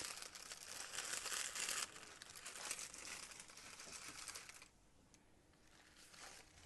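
Soft tissue paper crinkles and rustles up close in a dense, continuous crackle, then falls quieter toward the end, with no voices.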